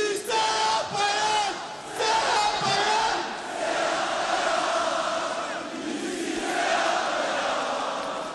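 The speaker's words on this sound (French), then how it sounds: "Lorsque l'équipe du MHSC arrive, la foule est en délire." A huge crowd of Montpellier football supporters cheers and roars loudly and continuously in a stadium celebrating the league title, with whistles and horns rising above the din.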